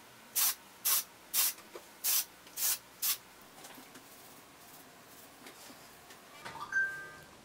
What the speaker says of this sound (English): So I use the Paul Mitchell Invisible Wear Undone Texture Spray